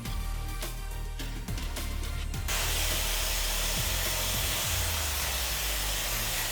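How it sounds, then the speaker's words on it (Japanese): Hair dryer blowing on freshly dampened short hair during a salon cut, starting after a few soft handling clicks and then running as a continuous close, loud airy whoosh. "では少し濡らしてドライヤーをかけます。"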